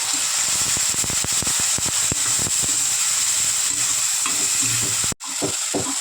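Cumin-mustard paste fries with melted tomato and onion for an amti fish curry, sizzling in a steady hiss broken by repeated scraping stirs, with a brief drop near the end.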